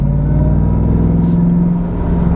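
Ford Mustang Shelby GT500 engine pulling on a race track as throttle is fed in progressively, a loud continuous close-up rumble with steady drone and no voices.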